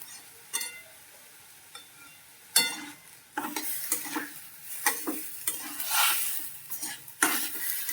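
Rice tossed with turmeric in a hot wok for Bengali basanti pulao, a spatula scraping and clinking against the metal in irregular strokes over a soft sizzle, close and alone.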